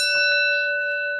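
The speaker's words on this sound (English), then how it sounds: "And Ed, do you want to ring the bell so everybody knows that they need to subscribe?" A single bright bell strikes once, its clear metallic ring sustaining with steady overtones and slowly fading over about a second, heard alone without talk.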